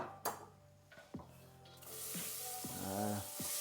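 Chopped onion hits a hot saucepan and breaks into a quiet, continuous sizzle after a few utensil clinks and knocks, the frying hiss staying soft and close.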